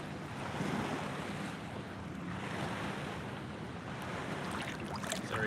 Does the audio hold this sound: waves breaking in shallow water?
yes